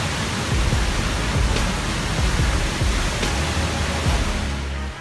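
Waterfall roaring in a steady, loud broadband rush of falling water that continues unbroken throughout.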